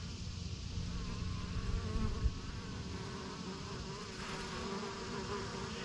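A yellow jacket wasp buzzes steadily and close by, a continuous droning hum with slight wavering in pitch, alone without voices over several seconds.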